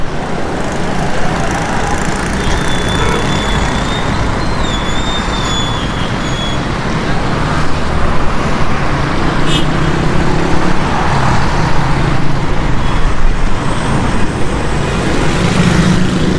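Dense road traffic on Shahra-e-Faisal in Karachi, near a fire at Parsa Tower, forms a loud, steady roar of passing cars, buses and trucks with faint horn tones on top.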